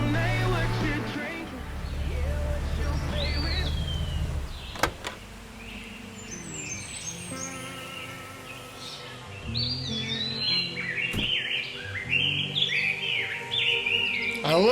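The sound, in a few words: birds chirping in a song recording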